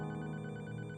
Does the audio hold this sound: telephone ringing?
yes